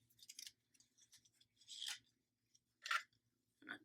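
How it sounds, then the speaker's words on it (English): Scissors snip thread on a handmade matchbook notebook, a few short crisp cuts spaced irregularly, close and fairly quiet with no talking. "I'm gonna cut this off."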